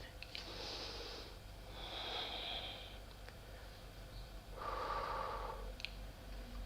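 Audible breaths during a yoga class in a studio, a few slow, soft inhales and exhales spaced through a quiet room, with light rustling between them.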